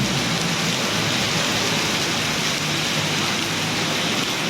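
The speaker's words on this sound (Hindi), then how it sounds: "बहुत तेज़ बारिश है" Heavy rain pours down steadily, a dense, loud hiss with no break and no voices.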